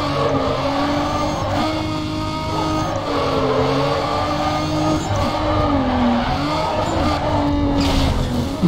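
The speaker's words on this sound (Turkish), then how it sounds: "Uzaylı gibi drift atıyorum" Dodge Challenger drifting in Need for Speed Carbon: a loud, close engine drone with long, wavering tire squeals that rise and fall as the car slides, continuous throughout.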